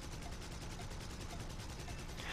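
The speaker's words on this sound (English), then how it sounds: "It's the cannons on this plane that are letting me down right now" Bf109 E-3 cannons and machine guns firing in War Thunder arcade air combat, a dense steady stream of rapid shots over constant engine drone, fairly faint throughout.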